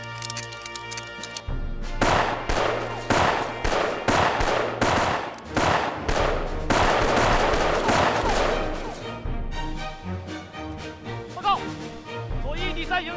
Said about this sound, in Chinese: 准备射击。